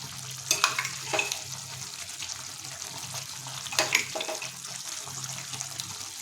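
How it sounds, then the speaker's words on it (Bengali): Potato and jackfruit with prawns and whisked sour yogurt sauté in a pan over low flame, a soft sizzle broken by a few louder stirring scrapes, with no one speaking. "এটাকে আমরা আরও 3 মিনিট লো ফ্লেমে এইভাবে কষিয়ে নেব।"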